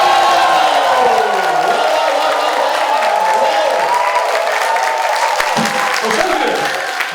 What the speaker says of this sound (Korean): 옆에 있는 분에게 환호성이 박수.